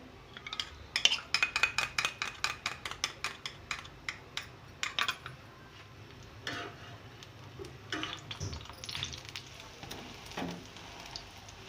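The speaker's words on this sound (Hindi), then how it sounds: "और अब मैं इसे फेंट लूँगी, इसका ऑमलेट बना लूँगी।" Eggs with black pepper and salt are whisked in a bowl for an omelette, a fast run of close clicking utensil strikes that starts rapid and loud, then turns slower and more scattered, with no voices.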